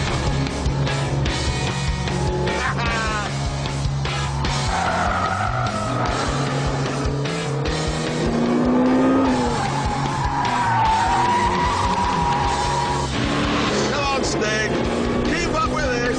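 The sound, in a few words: Lotus Exige and Ford Mustang racing on short circuit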